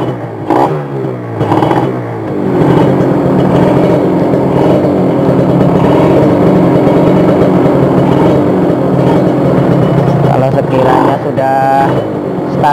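Kawasaki Ninja R two-stroke motorcycle engine running steadily close by, its idle lifted by small throttle blips, with a louder rev swell near the start and a lighter one near the end; someone talks over it.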